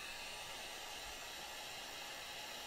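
Steady, faint hiss of a heat gun blowing hot air to soften foam, continuous and unchanging, with no talking.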